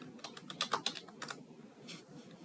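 Quiet keystrokes on a computer keyboard while logging in to a Debian install, a quick burst of taps followed by a few softer, sparser presses, with no speech.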